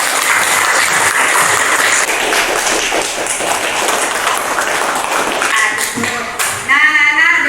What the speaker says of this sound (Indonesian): Ayo kita berikan tepuk tangan.